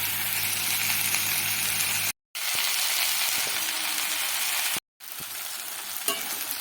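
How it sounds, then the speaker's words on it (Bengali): Water spinach frying in a pan with jackfruit seeds and potato, a close, continuous sizzle with light stirring, broken by two brief silent cuts. "শাকটা খুব সুন্দর করে ভাজা হয়ে গেছে"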